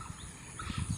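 Birds call softly in a quiet rural morning in Rangpur, Bangladesh, where few people are about; faint chirps sit over a calm background for a brief moment.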